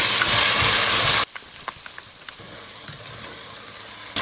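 Tomato and onion sauté in a pan for a Jaffna-style kulambu. A loud, steady sizzle and hiss comes first and then cuts off sharply. After that only faint stirring clicks and a low background remain, with no talking.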